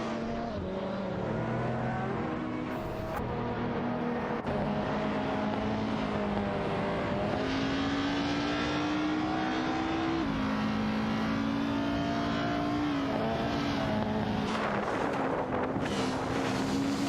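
Race cars, a Noble M500 and a W Motors Lycan Hypersport, battling closely for position on a circuit, their engines droning loudly and steadily with rising and falling pitch through gear changes, with wind rush throughout and no talking.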